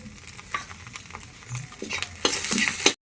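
Whole spices, a bay leaf, torn dried red chili and cumin, crackle and sizzle in hot oil in a kadai for a prawn malai curry. The sizzle is light and patchy at first, then swells into a loud, dense hiss near the end.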